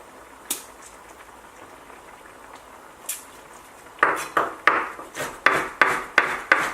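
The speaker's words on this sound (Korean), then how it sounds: "청양고추는 이렇게 다져주시고" Cheongyang chili peppers minced with a knife on a cutting board: two isolated taps, then a quick, steady run of about nine sharp chopping strikes, close and clear.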